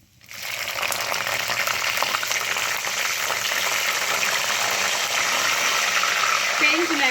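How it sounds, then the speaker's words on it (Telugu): Green chillies crackling and sputtering in hot oil in a pan while frying for chole, a dense steady sizzle with sharp pops that starts abruptly and holds loud and close for several seconds, no talking. "పేలుతున్నాయండి"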